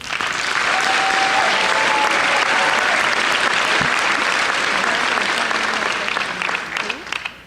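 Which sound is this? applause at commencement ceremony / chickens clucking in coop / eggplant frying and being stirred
applause at commencement ceremony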